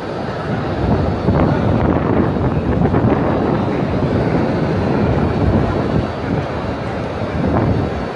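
Strong wind drives rain across the Grand Mosque in Mecca, a loud, constant rushing roar with gusty buffeting against the microphone and no clear voices.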